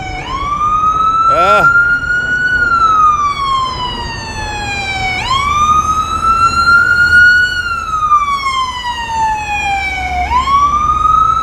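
A loud wailing ambulance siren sweeps up and down in long, slow rises and falls, with a short fast yelp burst early on, over steady traffic rumble.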